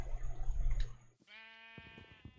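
A Minecraft sheep gives a clear, wavering bleat after a stretch of game background noise, followed by soft footstep-like taps.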